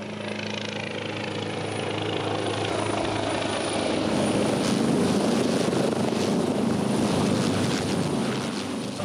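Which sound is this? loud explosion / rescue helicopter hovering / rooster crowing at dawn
rescue helicopter hovering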